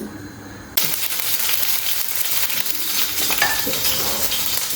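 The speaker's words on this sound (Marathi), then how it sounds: "तेल गरम झालं आहे इथे थोडे मसाले टाकले त्याच्यामध्ये लाल मिरची पावडर काळा मसाला म्हणजे जो ड्रायवाला असतो तो आणि थोडी हळद" Red chili powder, dry black masala and turmeric dropped into hot oil burst into a sudden loud sizzle that holds steady, with faint stirring scrapes close by.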